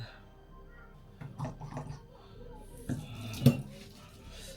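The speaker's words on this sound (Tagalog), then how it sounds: "sobrang hirap maghugas ng pinggan" Dishes and cutlery clink and clatter in a few scattered bursts, close by, with quiet stretches between.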